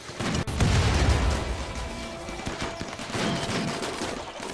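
RimWorld Biotech combat gunfire crackles as a volley of overlapping shots and thumps, loudest early on, then continuing more softly with scattered distant pops.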